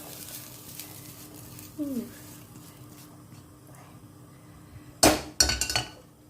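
Cooked vegetables for fried rice are moved into a bowl, with a faint clink midway and a sharp cluster of clinks and scraping near the end as utensils hit the dish in a quiet kitchen.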